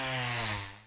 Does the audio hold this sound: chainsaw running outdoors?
yes